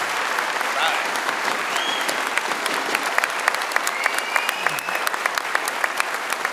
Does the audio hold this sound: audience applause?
yes